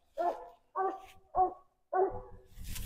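Coonhound barking treed on a nighttime raccoon hunt, four loud, evenly spaced bawling barks close by, followed by a short rustle.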